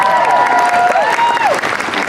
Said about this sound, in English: the sound of elderly fans clapping